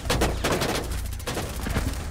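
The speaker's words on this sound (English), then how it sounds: "It's a shotgun." Rapid gunfire rings out in the video game Rainbow Six Siege, with shotgun blasts among several sharp shots fired in quick bursts, close and loud, and no talk over them.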